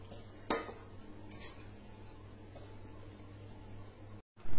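A metal lid clatters onto a pot of hilsa fish curry with potatoes and eggplant: one sharp clank early on, then a low steady kitchen hum, ending in a brief silence and a louder rustle.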